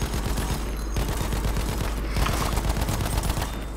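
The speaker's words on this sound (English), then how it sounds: "Yeah, the Lewis gun is pretty awesome to use." Lewis machine gun fire in Battlefield 1, a rapid, steady stream of loud shots sustained for several seconds with no pause and almost no talk.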